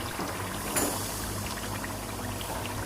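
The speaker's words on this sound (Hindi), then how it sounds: "1 कप मैं डाल रही हूँ इसके अंदर पानी," A cup of water is poured into the simmering masala for Nargisi kofta, a steady, fairly loud splashing rush of liquid with no talking over it.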